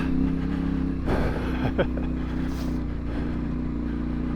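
A Yamaha Tenere motorcycle engine with aftermarket exhaust rumbles steadily with a deep exhaust note, a brief rev and rattling bumps partway through, fairly loud and continuous, riding over rocks and sand.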